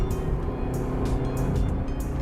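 A Wuling Confero S ACT engine pulls hard uphill in gear, a steady loud drone with road rumble heard from inside the car, no talk over it.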